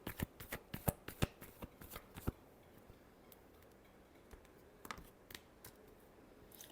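Tarot cards shuffled by hand in a rapid run of crisp riffling snaps, fading to a few scattered flicks and taps after a pause, close and clear with no talking.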